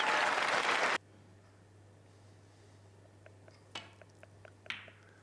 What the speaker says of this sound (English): A stunning ovation from the crowd